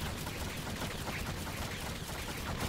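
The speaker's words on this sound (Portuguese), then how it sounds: "Só segurar o R2 que ele fica atirando freneticamente" Rapid basic shots fire nonstop in the video game Orcs Must Die Unchained, a dense, continuous crackle of gunfire at low level.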